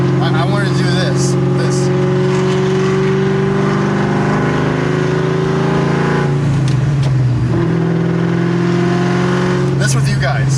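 A 2003–2004 Ford Mustang Terminator Cobra engine drones loud and close while driving, pitch holding steady then dipping and rising again as it shifts.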